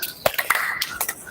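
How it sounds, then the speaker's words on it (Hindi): A few sharp hand claps during a yoga exercise, short and close, spaced unevenly in a brief burst. "एक बार ताली नीचे एक बार ऊपर करेंगे"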